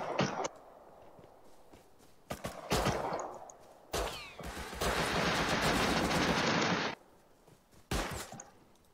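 Gunfire in the online game Rust from an M249 machine gun, with loud sustained automatic bursts mixed with sharper single shots and pauses between volleys.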